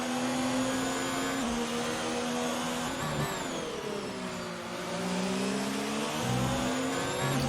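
Ferrari race car engines in an Xbox racing video game, a steady high-pitched whine rising and falling as the cars shift and accelerate, loud and continuous with no voices.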